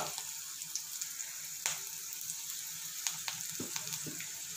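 Curry leaves and asafoetida sizzling in hot oil for a tempering, a steady close hiss with small crackles and pops.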